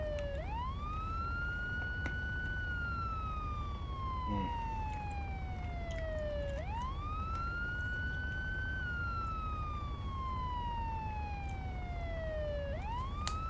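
A loud video-game police siren wails in long, slow rising and falling sweeps, repeating steadily with nothing else over it.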